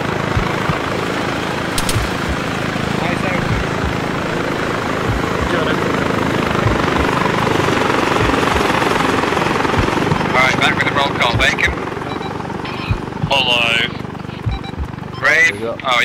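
Helicopter in the military shooter game Arma 3, a steady loud rotor drone running throughout with clicks and game sounds near the end, under players talking over voice chat.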